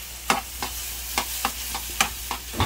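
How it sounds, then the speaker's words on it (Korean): Noodle soup garnish being stir-fried in a pan: a steady low sizzle broken by regular sharp scrapes and clacks of a spatula, close and fairly loud, about eight strokes in quick rhythm. "국수에 넣을 고명 볶고 있습니다"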